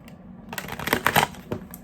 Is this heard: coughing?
no